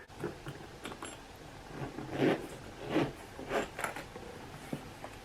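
The zipper of an overstuffed Louis Vuitton Speedy 20 bag is pulled closed in several short, rasping tugs, fairly quiet and close, with light rustling between pulls.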